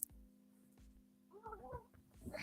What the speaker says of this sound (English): Here go this daggone cat.